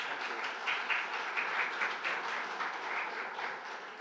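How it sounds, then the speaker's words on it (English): Audience applause after a strategic action plan presentation for Frankfort and Franklin County, a dense, steady wash of many hands clapping that holds evenly for several seconds at moderate volume. "Can we give them another round of applause?"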